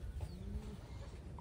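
A Taiwanese racing pigeon coos softly, a faint low murmur over steady background noise with no voices.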